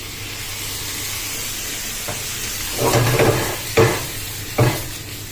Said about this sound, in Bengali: হালকা হালকা করে নেড়ে নেবেন